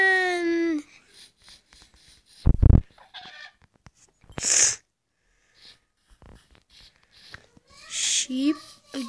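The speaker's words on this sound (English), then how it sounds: "Chicken." Blocky video-game chickens give short clucks and squawks in scattered bursts, alternating with a sharp sneeze-like burst and a few other game effects, with long quiet gaps between them.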